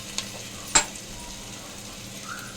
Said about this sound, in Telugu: ఇలా మసాలా ఫ్రై చేసుకున్నాక అందులోకి మనం అల్లం వెల్లుల్లి పేస్ట్,